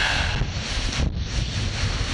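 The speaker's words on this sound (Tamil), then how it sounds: "காற்று மழை" Wind gusts push a broad, rushing roar across the microphone, steady and loud with a brief dip midway, with no rain patter clearly separate from the wind.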